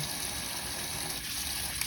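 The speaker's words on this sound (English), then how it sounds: "So this is hot water that I'm letting soak in." Hot water runs in a steady, continuous gush, pouring into a container to soak raw seaweed or similar produce; the close, even flow fills the whole stretch with no voices.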